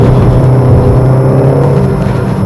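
A Mitsubishi Outlander Exceed with a 2.5 litre four-cylinder and CVT pulls away under a heavy throttle, a loud, steady droning engine rumble heard from inside the cabin with no talking.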